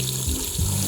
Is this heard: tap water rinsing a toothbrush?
yes